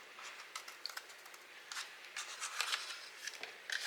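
Scissors trim paper for a handmade shirt-and-tie gift box, a series of quick crisp snips and light rustling, close up and quiet with no talking.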